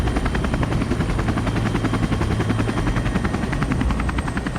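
A backcountry rescue helicopter carrying a spotter thuds with a fast, steady rotor beat over a constant engine drone, loud and close with no talking.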